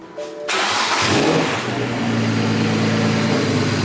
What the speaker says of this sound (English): we're gonna start this sucker up just to see if we have any catastrophic failures while it's still on the lift